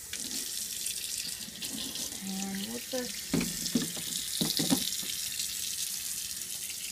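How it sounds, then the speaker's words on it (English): A kitchen faucet runs in a steady rushing stream, with brief clunks and handling noises and a couple of short spoken phrases over it. "Turn on the faucet."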